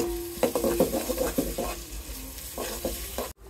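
Grated coconut fries in a pan as a utensil scrapes and stirs it, a run of rhythmic scraping strokes over a low sizzle, close and loud, with a short gap before the end.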